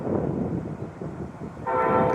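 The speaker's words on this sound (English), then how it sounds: "The Amtrak is going by." An Amtrak passenger train passes near a graveyard, a steady low rumble of cars that swells into a louder, sustained horn-like tone toward the end.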